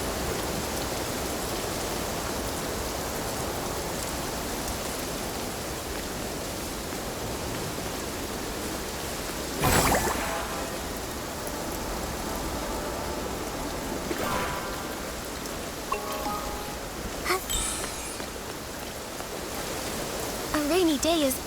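Steady rain pours across the open world of the video game Infinity Nikki, a dense even hiss running throughout with a few brief game chimes and effects standing out above it.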